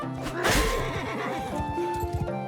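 A horse in a video game neighs loudly in a long, wavering whinny, with hoofbeats and game noise around it and no talk over it.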